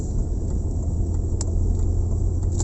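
A BMW E46 drives along with a steady low engine rumble and road drone, its sound constant and close from inside the cabin, with no voices.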